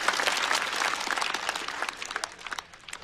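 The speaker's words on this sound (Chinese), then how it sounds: "再次掌声送给步惊云" Audience applause for a stand-up comedian at a comedy show, a dense, steady clatter of many hands that holds strong and then thins toward the end, with no talking.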